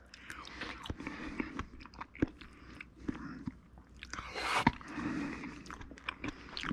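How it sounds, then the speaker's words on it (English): Close-up biting and chewing of a chicken and rice meal with pineapple: soft crunches, wet squishes and irregular mouth sounds, with a louder bite near the end. "I'm gonna actually have a bite of this now."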